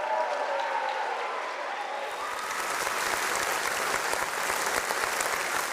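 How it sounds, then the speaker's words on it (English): Audience at a live stage show cheering and applauding, a dense, sustained wash of clapping and crowd noise that swells after a brief start and holds steady to the end. "Can we have another huge cheer for them"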